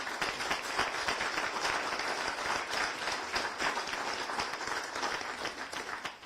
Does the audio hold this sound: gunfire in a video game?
no